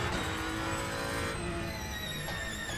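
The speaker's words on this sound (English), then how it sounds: "The classic Ferrari sound." Ferrari hypercar engine in Le Mans Ultimate, a loud, steady high-pitched whine with rich harmonics that shifts pitch partway through, heard alone without talk.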